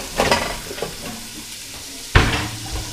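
Small cubes of meat brown in a hot pan, with a sizzling hiss broken by two sharp bursts of stirring or scraping, close up and without talk.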